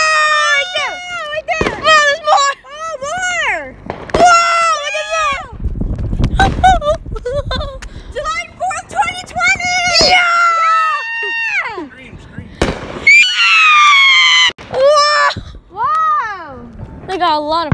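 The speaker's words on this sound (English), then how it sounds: "Got a lot of firework over there." Fourth of July fireworks crackle and pop in sharp bursts amid excited children's voices and whistling, screeching sounds, with a denser crackling stretch midway.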